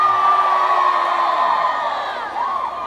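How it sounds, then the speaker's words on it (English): A large concert crowd on a tour stop in San Antonio cheers, whoops and shouts steadily at full volume throughout, a dense sustained roar of many voices that eases slightly near the end. "Make some noise for yourselves one time."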